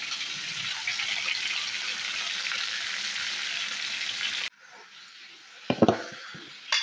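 Vegetables fry in a pan with salt and turmeric, a loud steady sizzle for several seconds that cuts off abruptly, followed by quieter clanks and scraping of a utensil.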